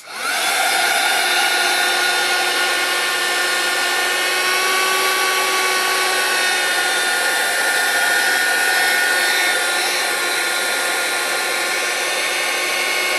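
A heat tool blasting hot air to dry paint and glue on a card, a loud, steady whirring roar starting abruptly and running continuously up close.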